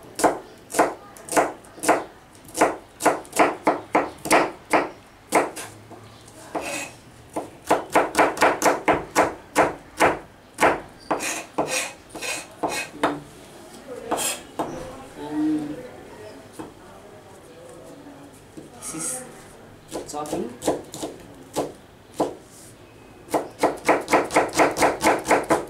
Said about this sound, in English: Now I am show you some cutting and chopping items. This is onions,